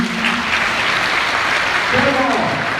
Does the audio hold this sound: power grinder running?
no